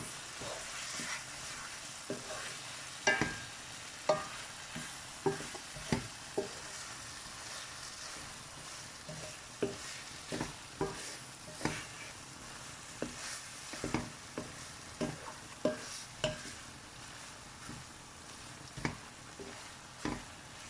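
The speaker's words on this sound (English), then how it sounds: "So I'm going to put about 1 tablespoon of soy sauce and give it a good mix." Chilli paneer with vegetables and a spoonful of soy sauce is stirred in a hot pan: a soft, continuous sizzle broken by regular scraping strokes of the spoon, repeated every second or so, close by.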